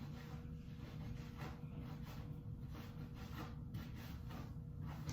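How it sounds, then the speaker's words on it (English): A hair brush worked hard through the scalp after dry shampoo, a faint, continuous scratchy rubbing with repeated strokes close by and no voices. "once I massage it all throughout my hair is when I do my hard scalp brushing"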